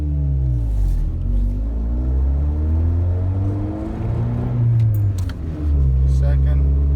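A manual-transmission car pulls away from a stop in first gear, engine revving and rising steadily in pitch as it accelerates, loud and close throughout with faint rattles.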